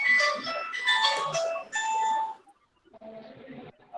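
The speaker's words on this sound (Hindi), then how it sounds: "स्पीकर घंटी तो बज रही है" Electronic bell chimes ringing through a meeting speaker, a few tonal dings in quick succession, then a brief gap and a fainter repeat, slightly distorted as if over a call line.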